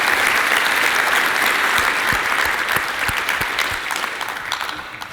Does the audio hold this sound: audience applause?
yes